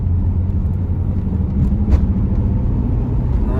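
A Z28 F-Body Camaro engine rumbles low and loud from inside the car, a steady, heavy drone that stays constant throughout with little change in pitch.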